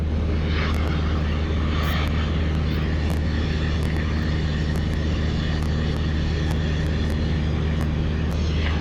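A Socata TB10 light aircraft's piston engine drones in cruise flight, heard from inside the cabin as a loud, constant low hum with a steady propeller tone, uninterrupted and without talk.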